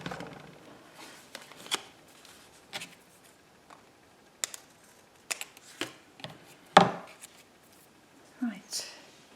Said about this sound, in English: Now, let's cut the tag shapes at the top.